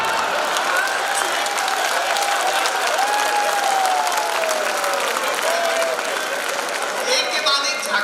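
Audience applause fills a hall at a Hindi comedy poetry event, a steady, loud, continuous clapping from a large crowd with a little cheering mixed in throughout.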